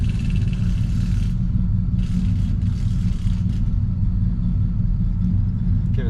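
A Lemans car's engine rumbles loud and close with a deep, steady low-end drone, lifting briefly as light throttle is applied, with no talking over it.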